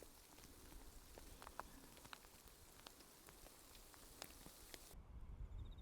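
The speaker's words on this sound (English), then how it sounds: "Rain." Light rain patters steadily on surfaces during a passing shower outdoors, with scattered close drips over a continuous soft hiss.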